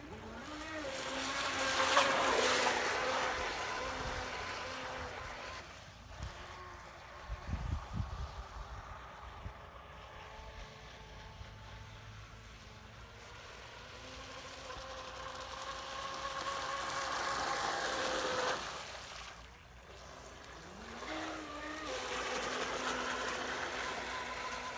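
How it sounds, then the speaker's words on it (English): A small RC boat runs on water with a thin, whining motor that rises and falls as it speeds up and slows, faint and distant, with wind and water noise. "let me show you the quick video clip of the RC boat"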